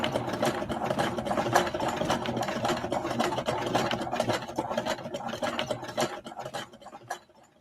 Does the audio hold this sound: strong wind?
no